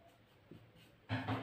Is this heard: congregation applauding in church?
no